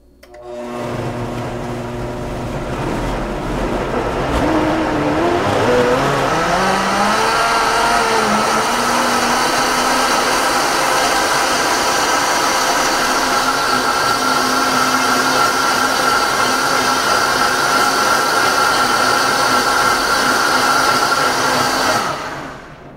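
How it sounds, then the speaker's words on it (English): A Vitamix blender blending a green smoothie with water runs loud and close for about twenty seconds, its motor rising in pitch as it spins up, then holding a steady high whir until it stops. "And we blend."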